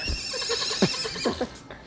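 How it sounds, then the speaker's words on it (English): A horse whinnies in a series of shrill, wavering neighs with a few sharper bursts, moderately close and alone, fading toward the end. "It's a horse."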